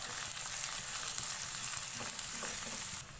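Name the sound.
stirring garlic and ginger frying in pan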